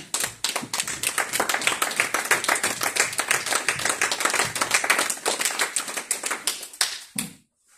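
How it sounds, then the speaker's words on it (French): An audience in a French-speaking church gathering applauds brother Bienvenu, a steady crowd of clapping hands that keeps a brisk rhythm for several seconds before stopping abruptly. "J'aimerais que nous puissions acclamer pour le frère Bienvenu."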